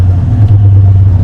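A 1975 Ford F250 pickup's engine runs steadily at close range, with a deep, even low rumble and slight fluctuations throughout.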